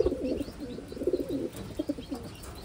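A female pigeon coos in a soft, repeated, throaty rhythm, close by and fairly quiet, with brief gaps between the low rolling calls.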